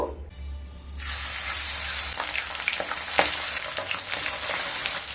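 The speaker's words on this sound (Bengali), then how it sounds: "তেলটা গরম হয়ে গেলে মাছগুলো ভেজে নেব।" Pabda fish hit hot mustard oil in a pan after a near-silent second, bursting into a loud, steady sizzle with bright spattering crackles that continue to the end.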